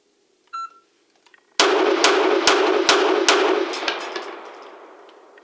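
Five sharp pistol shots from a Beretta APX fired in quick succession on a range, loud and close, each crack ringing out with a faint metallic ring lingering between them.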